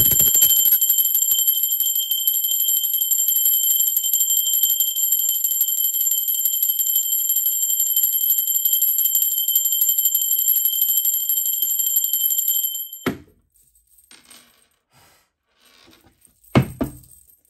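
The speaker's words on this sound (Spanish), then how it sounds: "la campana es una frecuencia muy alta" A bell rung during a tarot reading gives a bright, high, sustained ringing tone for about thirteen seconds, then cuts off sharply, followed by a few faint knocks and no talk.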